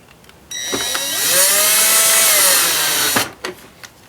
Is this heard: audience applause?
no